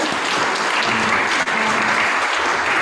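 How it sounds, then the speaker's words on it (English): A round of applause from a pitch-day audience gathered at a host church, steady and continuous clapping throughout. "So let's give them a round of applause for hosting us"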